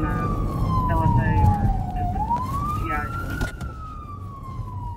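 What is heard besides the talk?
police car sirens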